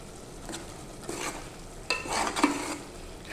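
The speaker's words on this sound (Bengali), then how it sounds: "আরও 5 মিনিট এটা আপনার লো হিটে কষাই নিতে হবে।" Spiced chicken curry masala stirred and frying on low heat in a pan, with soft sizzling and a few scraping stirs of a spoon, close and fairly quiet.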